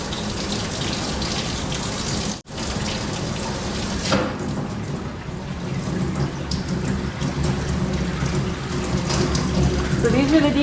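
Water runs steadily into a three-basin stainless decontamination sink in a hospital sterile processing department, a continuous splashing wash that grows slightly louder toward the end, with a brief drop near the start.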